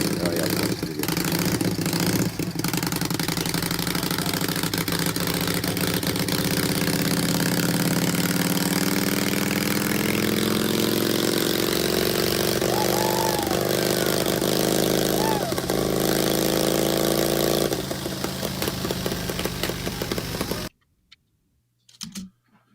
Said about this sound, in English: this is probably my only chance I'm going to get the Thor on a dyno